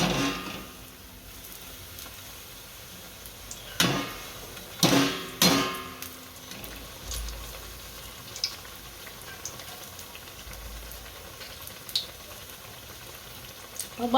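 Slices of bottle gourd coated in bhajiya batter fry in hot oil with a steady, soft crackling sizzle, broken by a few sharp clunks and clatters from a utensil against the pan.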